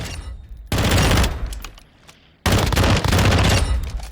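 Two long bursts of very rapid automatic fire from the FAMAS Valorise rifle in Call of Duty Modern Warfare II, loud and close, separated by a short pause with a fading tail, no voices.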